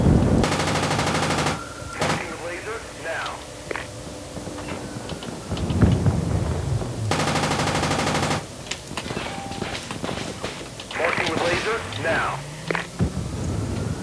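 Bursts of automatic gunfire from the Project Reality military shooter, two long loud volleys separated by quieter stretches with scattered shots, while players talk over the action.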